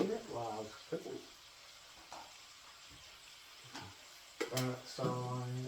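Venison sizzles and fries in a pan, a steady hiss running under the clip, while a person talks in short bursts at the start and end.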